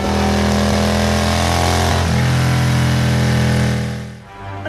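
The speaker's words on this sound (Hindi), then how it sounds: "चिंटू जल्दी स्कूटर स्टार्ट कर" A scooter engine runs loud and close, its steady drone stepping down in pitch midway, then fading briefly toward the end before picking up again.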